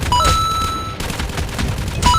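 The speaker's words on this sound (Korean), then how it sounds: "여기 총소리" Rapid gunfire bursts in the Call of Duty video game, several sharp shots over a busy stretch of game sound with short electronic tones, fairly loud and without talk.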